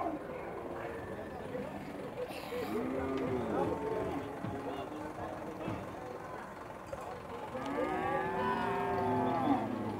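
Cattle lowing at a cattle fair in Campina Grande, several drawn-out moos near and far over a busy crowd murmur, with people talking throughout.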